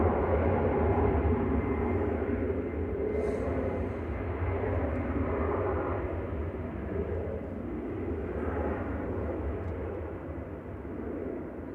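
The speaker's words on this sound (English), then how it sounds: "That's TAPS E190 CSTPT departing back to Lisbon there, operated by Portugalia Airlines with flight 1313." A TAP Portugalia Embraer E190 jet departs Manchester Airport, its broad engine roar swelling and slowly fading as it climbs away into the distance.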